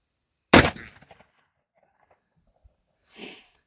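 Smith & Wesson Model 29 .44 Magnum revolver fires one loud, close shot with a short rattling decay, then a softer rustle follows a few seconds later.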